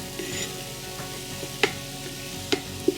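Stirring of fermenting persimmon wine pulp in a home batch, a soft wet swirl with faint fizzing underneath and a few sharp clicks of the spoon against the container, close and quiet.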